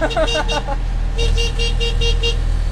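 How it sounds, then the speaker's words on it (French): The small horn of a Méhari honks during a rally, in two quick bursts of short, thin, nasal toots over a steady engine rumble. "Voici donc le magnifique petit klaxon, absolument ridicule"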